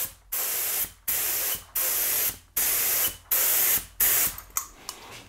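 Spray gun spraying paint onto paper inside a spray booth: a run of loud hissing bursts, each about half a second to a second long with short silent gaps between them, ending in a few shorter, choppier spurts.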